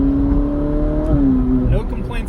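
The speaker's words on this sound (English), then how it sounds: "driving the 458 Speciale A" Ferrari 458 Speciale A engine heard from on board while driving on the road, a steady tonal drone that shifts pitch near the end as the revs change, loud and continuous throughout.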